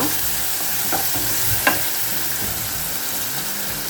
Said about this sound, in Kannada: ಈರುಳ್ಳಿ ಟೊಮೆಟೊ ಎಲ್ಲವೂ ಹಾಕಿ ಒಂದು ಮಿಕ್ಸ್ ಕೊಡೋಣ